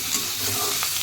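Vegetables frying in a pan on a home kitchen stove, a steady close sizzle with faint stirring, with no talk.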